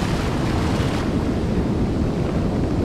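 Ocean waves wash in on a beach during surf fishing, a heavy, low rumbling surge with wind buffeting the microphone, steady and close with no talk.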